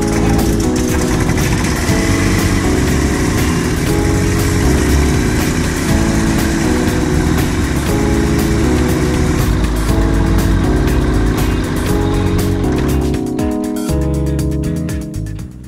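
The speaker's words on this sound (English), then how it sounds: "it was finally time to test run the engine to make sure that all the hoses and pumps that I've installed are working properly" Carbureted Rotax aircraft engine on a test run after maintenance, a loud, steady running drone with a rough harmonic buzz that holds for most of the stretch before changing pitch near the end.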